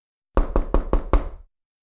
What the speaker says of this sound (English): Someone is knocking on the door.